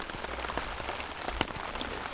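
Rain patters steadily on a tarp pitched on a backcountry trek through Utah, a dense, even hiss of drops with a few sharper taps standing out near the middle, fairly close and without any voices.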